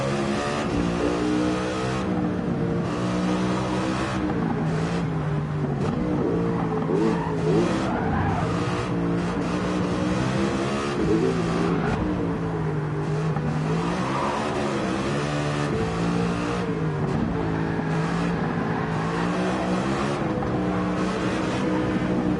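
A car engine drones and revs continuously while driving on a race track, the pitch rising and falling with acceleration, with occasional tire noise, close and loud throughout.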